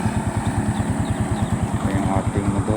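A motorcycle engine idles on Labo Bypass Road in Camarines Norte, Philippines, with a steady low, pulsing putter, close and fairly loud, with no clear speech.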